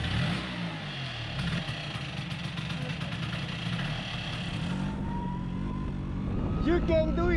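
A Vespa scooter engine, just repaired after two stuck piston rings were freed, runs and revs steadily up close in a roadside setting in Brazil, with voices talking over it throughout.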